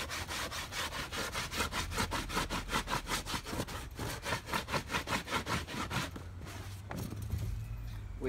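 Rhythmic rasping strokes of a stone rubbed over a stretched raccoon hide, steady back-and-forth scraping repeated dozens of times at close range, then stopping near the end as a low rumble remains.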